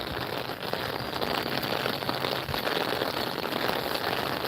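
Rain pours down outdoors while walking, a constant close hiss of drops striking surfaces, steady throughout with no one speaking.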